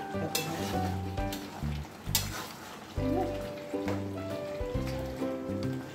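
Chicken in curd with potatoes sizzles and spits in a pan, a constant frying crackle with a few louder pops, running under quiet background music with no speech.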